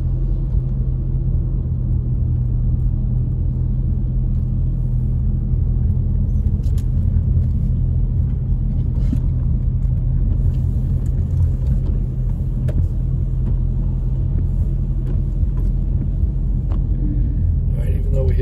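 Road traffic on a Big Bear mountain road after heavy snowfall gives a steady, low, continuous rumble of passing cars, with a person talking over it at times.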